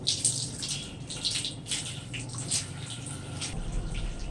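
Water runs continuously from the pipe of an instant gas geyser, a steady close hiss and splash with no voices.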